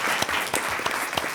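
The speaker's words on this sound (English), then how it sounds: "I know we can clap again." Audience clapping for panelists at a housing and health policy event, a close, dense burst of many hands with individual sharp claps standing out.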